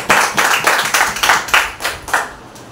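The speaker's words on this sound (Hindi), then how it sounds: "एक बार जोरदार तालियां हो जाए परमेश्वर के लिए।" A church congregation at a Wednesday service claps in a quick, fairly even rhythm of about eight sharp, close claps that fade slightly toward the end.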